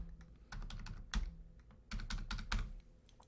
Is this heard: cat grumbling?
no